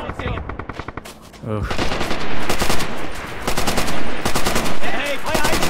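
Sustained machine gun fire in the WWII shooter Red Orchestra 2, loud, close and rapid, in dense bursts with brief gaps, with a voice grunting over the shooting.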